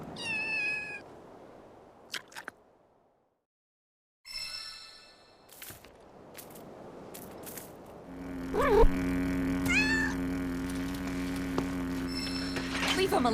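A cat in Final Fantasy VII Rebirth meows repeatedly while eating cat food, short mews scattered across the stretch, then several louder, wavering cries over a steady background tone near the end, with voices talking at points.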